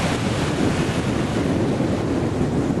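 Ocean waves washing onto a beach during a shore fishing session, a constant loud broadband surf roar with wind buffeting the microphone throughout and no voices.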